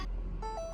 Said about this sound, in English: our car, when it starts, it does this sound, and we think it sounds like Oliver.